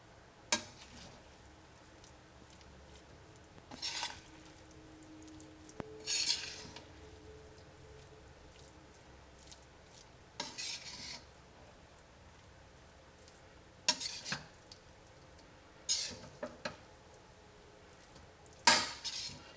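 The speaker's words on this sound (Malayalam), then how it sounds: "നമുക്കൊന്ന് മിക്സ് ചെയ്യാം." Tomato rice being mixed in a cooking pot, a spoon scraping and clinking against the metal in scattered short bursts separated by quiet pauses, close and moderately loud.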